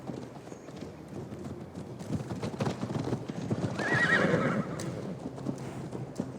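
Horse galloping in Assassin's Creed Valhalla: steady rapid hoofbeats with a whinny midway, over game ambience, continuous and fairly close.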